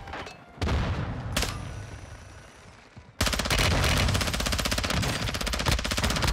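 Automatic gunfire in Warzone 2, a few single shots and bursts at first, then a loud, sustained rapid rattle of machine-gun fire continuing to the end.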